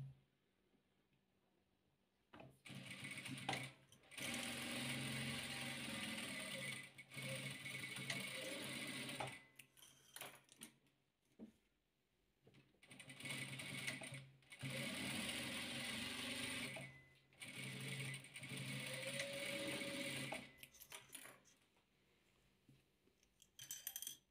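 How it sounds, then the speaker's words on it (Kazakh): A sewing machine stitches grey and blue fabric squares for chain-style patchwork, running in several long steady whirring stretches broken by short pauses and faint handling clinks, close and without speech. "Енді серий түсіміз бен көк түсімізді дәл осындай қылып тігіп аламыз."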